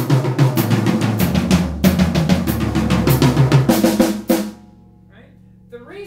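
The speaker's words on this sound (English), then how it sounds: "I want to start on the snare drum and go down to the floor tom." A drum pattern runs from the snare drum down to the floor tom, a steady series of sharp close hits over about four seconds, ending abruptly into quiet with a faint voice afterward.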